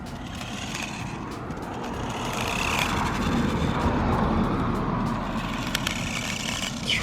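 RUI CHUANG QY1802A budget RC buggy driving outdoors along a sidewalk, a steady buzzing electric motor whir holding at moderate loudness over a noisy rumbling background for several seconds.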